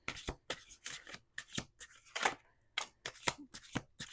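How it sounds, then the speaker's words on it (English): A deck of oracle cards being shuffled by hand, a steady series of crisp riffling bursts close up, around ten in quick rhythm with brief pauses between. "We're going to do 2 more shuffles."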